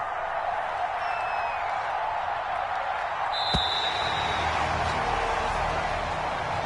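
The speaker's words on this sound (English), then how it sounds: "And the home crowd applauding." A home crowd applauds in a PS4 American football game, a broad steady wash of distant clapping and crowd noise that runs evenly throughout, with a brief sharp tone and a sweeping whistle-like sound in the middle.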